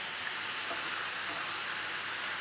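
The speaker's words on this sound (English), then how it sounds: "I'm going to add a touch of water just to help them steam up a little bit." A steady, bright hiss of mushrooms steaming and sizzling in a hot pan with a touch of added water, continuous and close.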